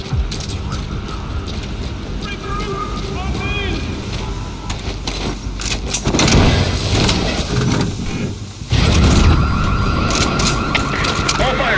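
A loud wailing intruder alarm siren rings through a base in Metal Gear Solid V, rising and falling continuously with radio voices talking over it.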